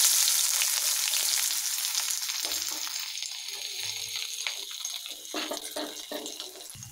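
Sliced big onions and curry leaves sizzle and crackle steadily in hot oil in a pan, loud at first then easing slightly, with occasional stirring scrapes and no talking.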